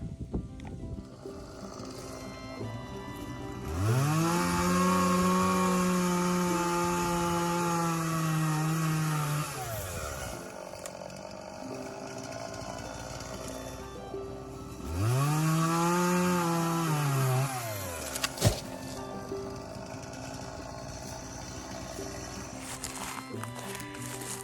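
A chainsaw bogs down and recovers in two long, loud cuts through a white oak tree being cut up for firewood, dropping to idle between cuts and ending with a sharp crack.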